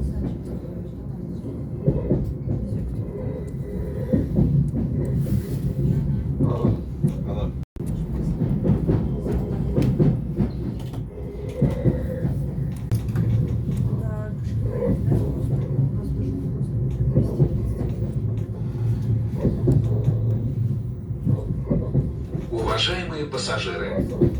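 Lastochka train wheels clattering on rails during a ride toward the Zhigulevskoye Sea, a continuous low rumble with rhythmic rail clicks from inside the carriage, one sharp knock partway, and brief voices near the end.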